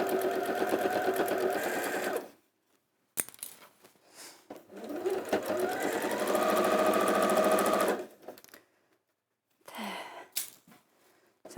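Sewing machine top stitching around the point of a fabric flower, running in several bursts of steady whirring with short pauses between them, close and clear.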